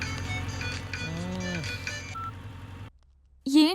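A mobile phone rings with a melodic ringtone, its tones sounding steadily for a couple of seconds, then a brief silence before a louder rising note cuts back in.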